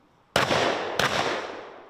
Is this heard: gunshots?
yes